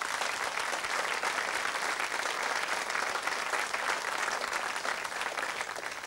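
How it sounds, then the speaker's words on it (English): Sustained audience applause for traditional Irish musicians at an Irish dance performance, a steady dense wash of clapping that holds at even loudness for the whole stretch, with no talk over it. "Warm round of applause for them, thank you."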